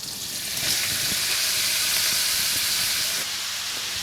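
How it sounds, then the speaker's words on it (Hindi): Grated carrots frying in two tablespoons of hot ghee, giving a loud, steady, close sizzle and hiss with faint stirring clicks underneath, no talking. "और इसमें डाल दें कद्दूकश की हुई गाजरें"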